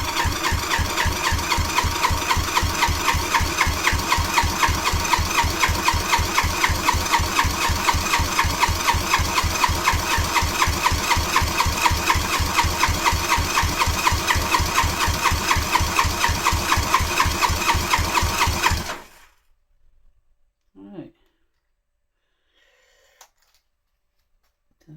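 Kawasaki Z200 motorcycle engine cranking on the starter with the throttle held wide open for a compression test, a loud, rapid, even chugging rhythm that runs for about nineteen seconds, then stops abruptly into near silence.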